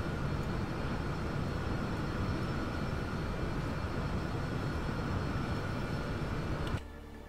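Steady, loud engine drone from an airliner cruising at 25,000 feet in the X-Plane 11 flight simulator, a continuous broadband roar that drops abruptly to a quieter hum near the end.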